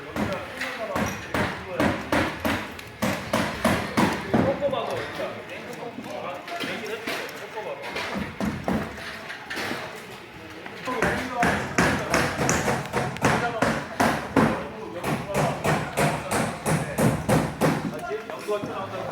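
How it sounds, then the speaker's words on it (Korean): Rapid, loud hammer blows ring out in steady bursts while carpenters build a drama set in a studio, with a short pause midway before the pounding resumes; a voice talks over the hammering. "세트를 칠 때는 망치 소리가 굉장히 심하게 나고 있죠"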